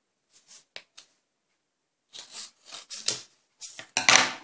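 Paper being cut out and folded for a finger puppet: a few short crisp rustles and snips at first, then a cluster of louder crinkling folds near the end.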